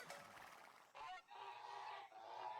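Turkeys gobble and honk in the video game Age of Empires 2, several overlapping calls in quick succession. They are fairly loud and close, with game ambience underneath and no talk.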